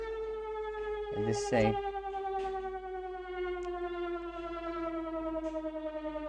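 A Danish emergency alert siren holds one steady, harmonic-rich tone that slowly sinks in pitch and runs unbroken through the whole stretch, with a short spoken remark over it near the start.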